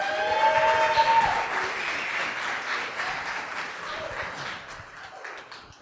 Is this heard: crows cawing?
no